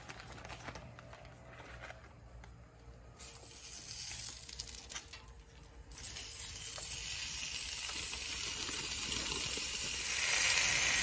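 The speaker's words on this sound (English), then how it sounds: "I'm gonna put the bacon up here towards the top" Bacon sizzling on a flat griddle while burgers are being cooked, a steady crackling hiss of frying fat that grows louder and brighter over time, close and continuous.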